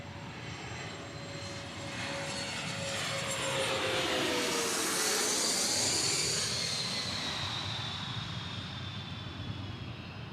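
A Challenger business jet inbound to Dallas Love Field passes overhead with a steady whining turbine roar that swells toward the middle and then slowly fades. A high engine tone sweeps downward as the jet goes by, and no one speaks.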